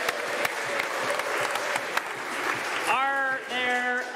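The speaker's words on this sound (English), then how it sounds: "Please give him a round of applause." Brief applause in a legislative assembly chamber, scattered claps over a murmur before a clear voice begins speaking near the end.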